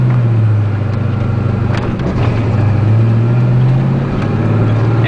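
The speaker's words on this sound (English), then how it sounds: "So here's the gas, and then when I start to let off the clutch." Manual car engine holding steady revs as the clutch is let out, a loud close drone that rises and dips slightly with a brief lull midway.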